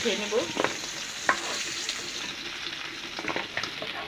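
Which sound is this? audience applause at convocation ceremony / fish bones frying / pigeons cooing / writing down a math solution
fish bones frying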